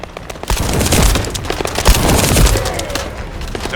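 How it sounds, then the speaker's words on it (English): Gunfire in the third-person shooter game The First Descendant, with dense bursts of rapid shots and heavy booms layered over a continuous loud battle din. "That stopped the gunfire."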